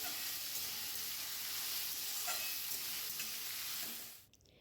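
Food frying in a pan in a home kitchen, a steady close sizzle with faint stirring, cutting off abruptly near the end.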